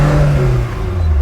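Maruti Gypsy engine droning steadily from inside the vehicle while driving, with the AC on, a close, continuous mid-low hum with faint rises in revs and no talking.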